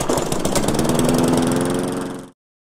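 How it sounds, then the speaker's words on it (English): A lawnmower engine runs loud and steady with a rough, throbbing putter, then cuts off abruptly near the end, leaving silence. "or the lawnmower"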